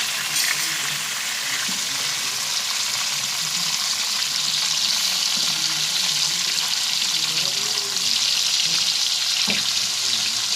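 Chicken pieces with masala sizzle and fry in a hot pan for a steam roast, giving a steady bright hiss with occasional crackles and one sharp clink near the end. No one speaks.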